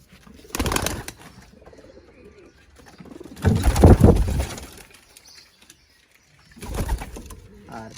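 A large pair of domestic pigeons in a loft coos in three throaty bursts, near and moderately loud, with quiet pauses between them.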